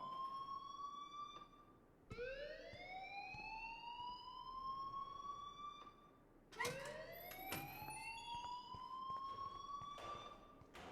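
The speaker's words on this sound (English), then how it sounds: "please turn off that alarm since that's your job" A loud siren-like alarm in the video game Life Is Strange wails in rising sweeps, restarting three times with sharp jumps, steady and piercing with no voices.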